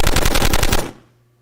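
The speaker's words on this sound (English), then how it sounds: "I think this machine gun one is a little loud" A rapid burst of machine-gun fire rattles loudly for under a second, then cuts off abruptly into near silence.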